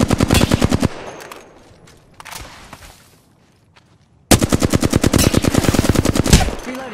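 Rapid automatic gunfire in the video game Apex Legends: a fast burst of evenly spaced shots at the start, a quieter lull, then a long loud sustained volley of rhythmic shots to the end.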